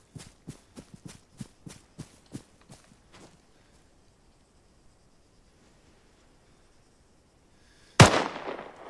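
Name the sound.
rifle shots in the video game Arma 3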